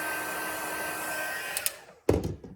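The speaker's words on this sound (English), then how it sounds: "I'm going to take my heat tool again and heat the back of it up" Heat tool blowing hot air onto the back of a paper card piece: a steady, close whooshing roar that cuts off after about a second and a half, followed by a short clunk.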